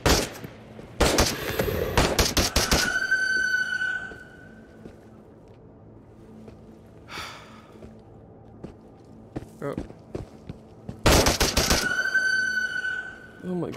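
Rapid automatic gunfire in the Into the Radius video game: two loud, close bursts of fast shots, one at the start and another near the end, with quiet stretches and a few faint clicks between them.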